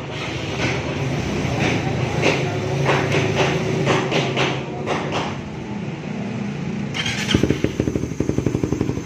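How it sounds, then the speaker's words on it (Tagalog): A Honda Raider 150 Fi motorcycle engine with its silencer removed runs loud and raw, a dense rumbling roar that ends in a rapid series of sharp backfire pops near the close. "sobrang ingay kasi may rapid backfire siya ayan tinanggal yung silencer ngayon, paanda rin ulit natin"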